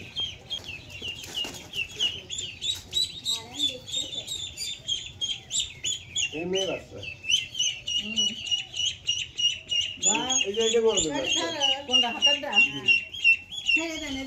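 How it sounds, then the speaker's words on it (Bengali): Chicken chicks and Peking ducklings chirp and peep rapidly and continuously, close by, with a brief louder cluster of calls near the end, while people talk over them. "এটা মুরগির বাচ্চা এটা বড় বাচ্চা মুরগির বাচ্চা"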